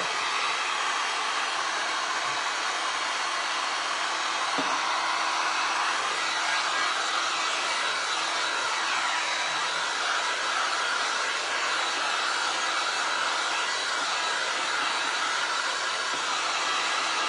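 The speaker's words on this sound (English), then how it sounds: "heat this booger up with my handy dandy Seek 1 heat gun and get it dry" A Seek 1 heat gun blows hot air to dry paint on a metal tin, a steady loud hissing whoosh that holds unbroken and close for the whole stretch.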